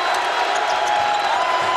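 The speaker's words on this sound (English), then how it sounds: "And this crowd near capacity here in Little John Coliseum." A near-capacity basketball crowd in Littlejohn Coliseum for Louisville Cardinals against Clemson Tigers gives a steady, dense roar of cheering and chatter, continuous and fairly loud throughout.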